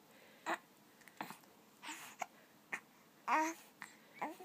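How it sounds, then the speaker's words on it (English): A baby just out of a bath hiccups: short, faint, evenly spaced little catches mixed with soft babbling noises in a quiet room. "You get the hiccups after your bath?"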